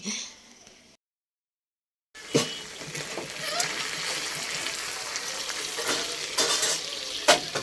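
Goat meat stirred and fried in a pan on a gas stove, with a steady close sizzle, scraping stirs and splatters, after a brief gap of silence.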